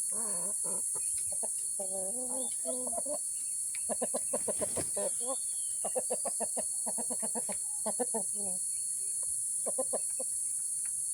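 Rhode Island Red and Black Australorp heritage chickens cluck and call in a backyard flock, a steady run of short, fairly close clucks and squawks over a constant high insect-like hiss.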